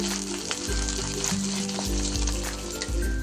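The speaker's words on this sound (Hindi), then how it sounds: "तो इसको भी हम तेल पे भून लेंगे ताकि ये भी प्याज की तरह भुन जाए।" Kashmiri-style red spinach frying in hot oil with onion, garlic and ginger, a steady close sizzle broken by three dull thumps of a spoon stirring the pan.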